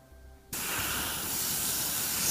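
A spray can bursts into a loud, continuous hiss after a short quiet moment, holding steady and close until the end.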